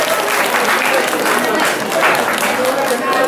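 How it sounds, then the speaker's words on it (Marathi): An audience applauds at an award ceremony in a temple, a loud continuous wash of clapping hands with a voice heard over it. "टाळ्या वाजवा सगळे, टाळ्या वाजवा, टाळ्या वाजवा"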